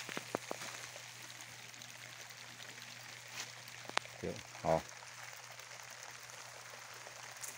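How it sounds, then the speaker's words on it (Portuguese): Water falls and trickles steadily in a gravity-fed irrigation channel on a small farm, a faint continuous wash with a few soft splashes and knocks, while someone speaks briefly nearby. "E aí você escuta o barulho da água caindo aí, galera, ó. Irrigação por gravidade."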